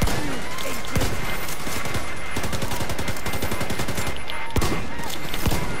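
Rapid automatic gunfire from a firefight on Roosevelt Island in The Division 2 rattles on steadily, with sharp louder single shots cutting through the bursts. A voice shouts briefly underneath.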